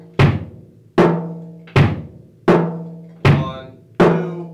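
Drum kit playing a slow, even pattern: six strong hits alternating booming bass drum and sharp snare, each ringing out before the next, played alone with no talking.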